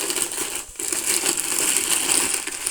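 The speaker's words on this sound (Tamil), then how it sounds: "கடுகு கொஞ்சம் தேவையான அளவு கடுகு போடணும்" Mustard seeds dropped into hot oil in a kadai pan, crackling and spitting in a dense bright sizzle with a brief dip before it resumes, close and fairly loud.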